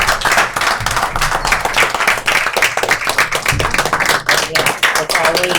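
Applause at a city council meeting, a room of people clapping briskly with distinct individual claps standing out, fairly close and loud, while voices talk over parts of it.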